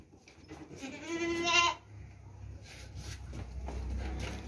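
A large, heavy-bodied milking goat gives one loud, wavering bleat that lasts under a second, followed by quieter shuffling and background noise.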